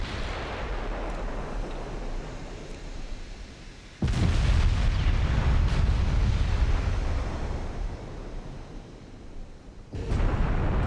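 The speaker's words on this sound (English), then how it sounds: "That's HE rounds going through the very thin forward armor and then going down the length of the ship." High-explosive shells striking a warship's thin forward armor in a naval battle video game, heard as heavy rumbling booms and roaring blasts with a sudden loud surge midway and another near the end.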